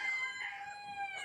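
A new rooster crowing in a farm garden, a single sustained call with bright harmonic tones that holds steady and fairly close for its whole length, with no voices.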